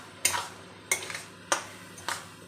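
Spices and water stirred in a pan with a utensil while cooking a vegetarian taro dish, four evenly spaced scraping strokes, close and fairly quiet.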